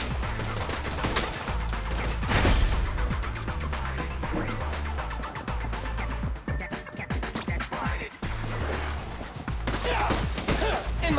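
Dense, continuous gunfire and combat effects from the video game Zenless Zone Zero, loud and busy throughout with a brief dip near the end.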